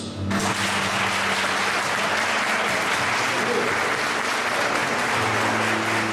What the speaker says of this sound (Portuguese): Igreja, vamos aplaudir Jesus.